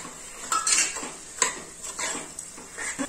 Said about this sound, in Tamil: நல்லா மிக்ஸ் பண்ணி விட்டுக்கோங்க. வெஜிடபிள்ஸ் எல்லாம் இந்த பேஸ்ட்ல நல்லா மிக்ஸ் ஆகி வரணும்.